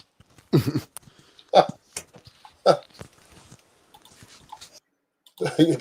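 A person imitates a golden retriever barking with their voice, giving a few short, throaty woofs spaced about a second apart, then a louder burst at the end. Near and clear, with quiet gaps between the sounds.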